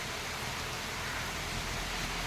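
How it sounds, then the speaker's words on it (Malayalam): Light drizzle falling after two dry days in Tirur, Malappuram, a soft, even hiss of rain steady and fairly faint throughout, with no voices. "നല്ലൊരു ഇളം ലൈറ്റ് മഴ പെയ്തുകൊണ്ടിരിക്കുന്നു"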